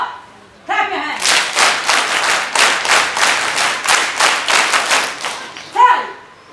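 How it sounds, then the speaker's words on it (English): Students at a school assembly clap in unison, a loud, rhythmic series of about fifteen sharp synchronized claps, framed by a brief voice before and after. "Clap your hands."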